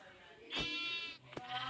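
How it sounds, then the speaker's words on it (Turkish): A Minecraft lamb's bleat rings out, wavering and nasal, followed by a short sharp click and a fainter second bleat over a quiet background. "Ay yavru koyun."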